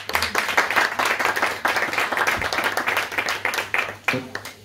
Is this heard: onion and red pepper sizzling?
no